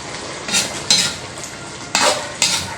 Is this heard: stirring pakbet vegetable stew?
yes